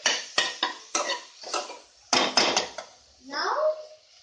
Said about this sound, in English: Fry the masala nicely.